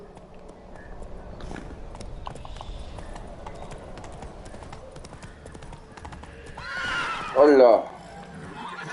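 A horse in The Witcher 3 on Skellige trots with rhythmic clip-clop hoofbeats, then lets out a loud whinny near the end, with a voice speaking briefly over it.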